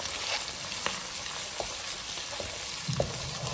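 Ginger garlic paste and onions fry in a pan for shahi morog pulao, a constant close sizzle broken by soft scraping strokes of a stirring spoon, with no talking.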